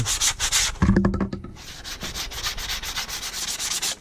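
A sanding block rubs along leather edges in quick, close back-and-forth strokes, a dry rasping scrape repeated in short bursts with a brief rhythmic patch of faster strokes.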